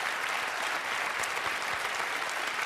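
Studio audience applauding during a Quebec reality TV show broadcast, a dense, steady wash of clapping that holds loud and even from start to finish with no voices on top.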